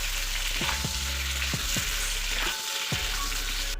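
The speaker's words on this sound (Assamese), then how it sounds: "এতিয়া আমি ভাজি থোৱা অমিতাখিনি আকৌ ইয়াতে দি ল'ম। অলপ লৰাই লৈছোঁ।" Fried papaya pieces tossed back into a hot pan for a fish curry, sizzling steadily while a spatula scrapes and stirs in several distinct strokes, close and loud with no talking.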